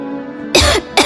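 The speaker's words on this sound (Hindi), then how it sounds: "मैना खांसते हुए कहती है" A voice acts out a myna coughing in thick smoke from a fire in an animated story: two harsh, close, loud cough bursts, the first longer, the second short.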